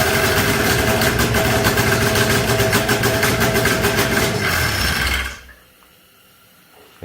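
An Arctic Cat snowmobile engine runs loud and steady at a fast idle with a rapid pulsing rhythm, then shuts off abruptly, leaving near silence.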